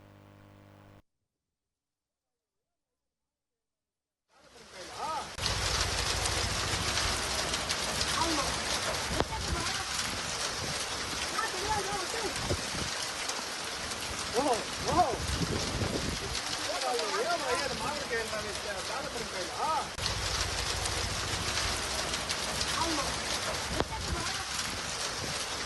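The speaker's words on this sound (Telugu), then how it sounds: "చిత్తూరు జిల్లా రామకుప్పం మండలం చెనగానిపల్లిలో వడగళ్ల వర్షం కురిసింది" Hailstorm with marble-sized hailstones and rain pelting down in a village in Chittoor district, a dense, loud, continuous patter. It starts abruptly after a few seconds of near silence and holds steady to the end.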